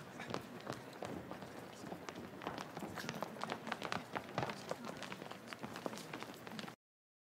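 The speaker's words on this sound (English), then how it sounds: "Sounds made by walking or running." Rapid running footsteps, crisp and fairly close, thudding in a quick steady rhythm throughout before cutting off abruptly at the end.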